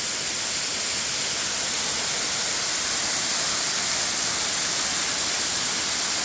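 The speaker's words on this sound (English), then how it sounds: "Beautiful waterfall." A waterfall spilling over shale rock gives a steady, even hiss of rushing water, constant and fairly close with no other sounds over the few seconds.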